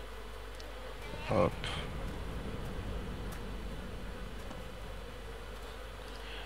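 Flies buzzing around a corpse in the DayZ video game, a steady faint insect drone running throughout with a brief louder burst near the start, while a voice calls out briefly.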